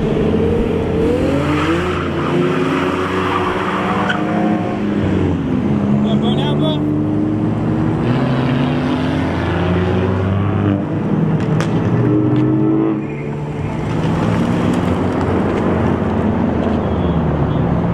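Cars pulling out of a street car meet at Tempe Town Lake, engines revving and rising in pitch as they roll past close by, a loud, continuous stream of motor noise with voices in the background.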